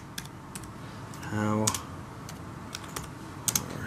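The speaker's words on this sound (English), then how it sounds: "I can utilize my keyboard and say" Laptop keyboard keys tapped while a text message is typed, a Samsung ATIV Book 9 Plus in use; light scattered clicks sit under and between talk, with a brief tone near the middle.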